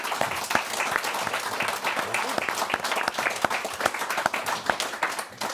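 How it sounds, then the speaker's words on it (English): A room full of people gives a round of applause to the speakers at a Future of Conservatism policy panel, with many crisp individual claps in a busy, uneven patter and no talking. "So can you join me in giving a round of applause to them?"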